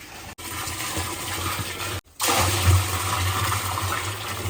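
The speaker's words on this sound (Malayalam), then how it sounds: "ഈ വെള്ളത്തിലേക്ക് ഇത് ഒഴിച്ചു കൊടുക്കാം" Liquid poured into a 200-litre barrel of water for cardamom farming, a close gushing, splashing flow with a couple of brief breaks, loud and steady without speech.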